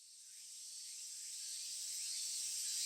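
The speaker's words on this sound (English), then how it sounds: "The cicadas, you know," Summer cicadas from the Japanese visual novel game Tsukihime drone in a thin, high, continuous hiss that swells gradually louder over a few seconds, steady and unbroken with no speech.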